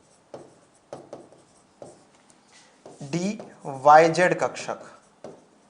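Chalk or marker writing on a board during a chemistry lecture on atomic structure, several short scratchy strokes in a steady rhythm before and after someone speaks.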